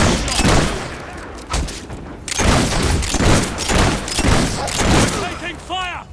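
Rapid volleys of gunfire crack and boom in the video game Fable 3, bursts coming in quick clusters while a voice shouts over the shooting.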